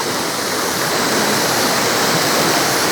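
Strong river water rushing steadily at a village bathing and washing spot, a loud, continuous broadband roar with no pauses and no voices.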